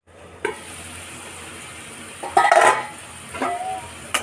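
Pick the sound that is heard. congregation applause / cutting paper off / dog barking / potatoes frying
potatoes frying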